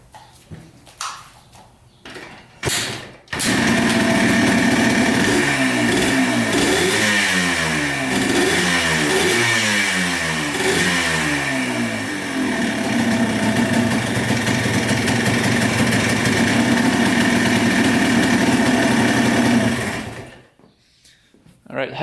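A Yamaha Blaster ATV that bogs, lacks power and is smoking, with no oil in the gas. A few clunks come first, then the engine catches and runs steadily for about seventeen seconds before cutting out.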